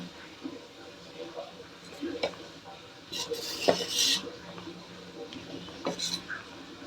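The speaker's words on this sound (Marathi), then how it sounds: "हे थोडस हलवून घ्यायचं जास्त नाही हलवायचं हलक्या हाताने हलवायचं आहे" Soaked, fermented idli batter stirred gently by hand in a metal vessel, with soft wet sloshing and occasional light clinks of the pot, fairly close and low in level, while someone talks over it.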